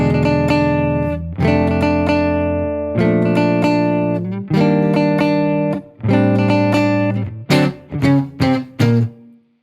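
Gypsy jazz guitar strums the chords of a tune at full tempo, loud, bright and continuous, ending in a run of short punchy accented chords.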